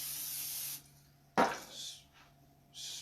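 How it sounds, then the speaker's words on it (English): Two short hissing bursts of cooking oil spray onto a waffle iron, one longer and one brief, close by, with a quiet clunk between them. "spray a little oil."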